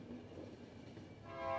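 Train pulling into a station in the post-apocalyptic video game The Final Station, a steady rumbling rail-car roll with a rising metallic screech or horn-like tone near the end, moderately loud with no talking.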